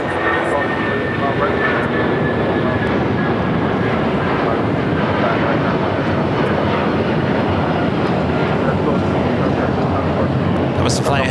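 Boeing 757-300 airliner pushing back and taxiing at Los Angeles International Airport, a loud steady jet engine roar and whine that holds throughout with no break.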